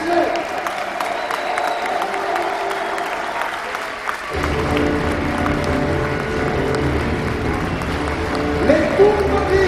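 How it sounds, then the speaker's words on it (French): Young children in a school group applaud, starting as lighter scattered clapping and then swelling into fuller, louder continuous applause with crowd noise mixed in, holding steady until the end. "Les petits, applaudissez."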